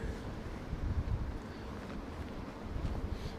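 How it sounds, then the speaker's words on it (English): Gusting storm wind at Heathrow Airport buffeting the microphone, a rough, steady low rumble that rises and falls without a break. "wind's picking up."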